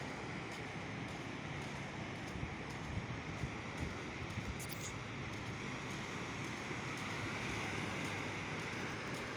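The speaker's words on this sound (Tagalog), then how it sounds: "Hindi ganong malakas ang alon kasi dati ang laki ng alon" Gentle surf washes steadily onto the sandy beach at Lingayen, a soft continuous rush with some wind noise and no voices.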